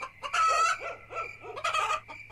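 Several roosters cluck and crow close by in two loud bursts separated by a brief lull, with steady low farmyard background beneath.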